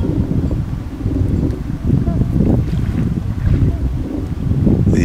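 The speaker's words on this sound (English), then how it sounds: "it was quite cold out this morning with the wind blowing" Strong, steady wind roars and buffets the microphone outdoors on a cold morning at the Port Severn locks in Ontario, a continuous low rumble with gusty swells throughout.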